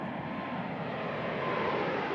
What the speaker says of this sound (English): Next, they put this new jet through the flutter test.